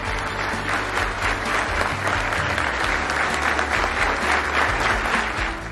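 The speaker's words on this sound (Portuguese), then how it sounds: "ao final, aplaudiu em pé" A large audience gives a standing ovation at the end of a lecture, applauding steadily and loudly, a dense continuous wash of clapping that holds without pause throughout.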